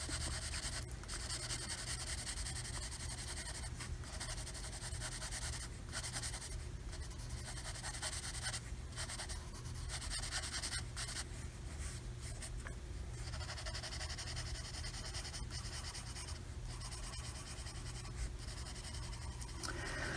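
Colored pencil scratches steadily across the paper of a coloring book, close and soft, with continuous back-and-forth strokes and brief pauses, no talk.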